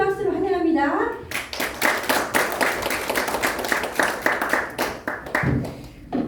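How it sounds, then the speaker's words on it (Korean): Audience applause welcoming a guest lecturer at a Korean forum meeting; clapping starts after a second of announcer speech and continues as dense, steady applause, with a voice returning near the end. "우리 강광민 박사님 큰 박수로 환영합니다"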